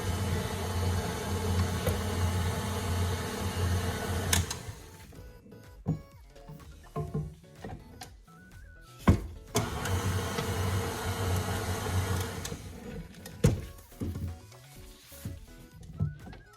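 Electric mixer blending cream cheese frosting, a steady motor whir that drops out partway and then resumes, broken by clattering knocks and bumps, heard close with no talking.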